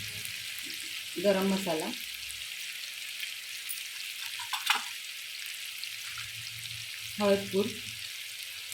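Tomato frying in a pan with spices added, a continuous bright sizzle throughout with brief stirring scrapes, while someone speaks short phrases over it.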